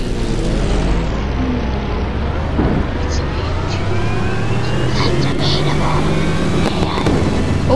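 A Mercedes AMG car engine in a Roblox racing game drones loudly and steadily, its pitch sweeping upward through gear changes, with the game's engine audio continuous across the stretch.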